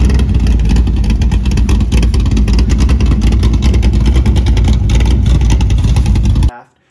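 Loud, sustained revving of a 355 Chevy small-block V8 with 9.63:1 compression, Edelbrock Performer EPS intake and XR 282 hydraulic roller camshaft, a dense unbroken engine roar that cuts off abruptly at the end.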